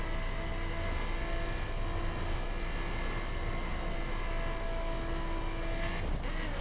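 A car engine held at full throttle in The Crew, a steady sustained drone with a constant high whine, running uninterrupted at high speed during a motorway drive near New York.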